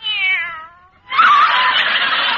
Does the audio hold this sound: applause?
no